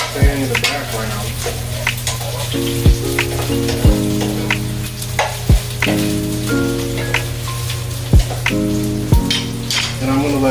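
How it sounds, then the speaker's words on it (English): Bitter gourd sautés with turmeric in a pan, a constant crackling sizzle broken by sharp knocks and clinks of a utensil at irregular intervals. "You can hear the bitter gourd"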